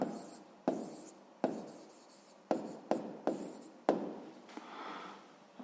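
Pen strokes on paper as an answer to a sixth-grade maths exercise is written down by hand, a quiet, close scratching in short bursts, each starting with a tap, with brief pauses between.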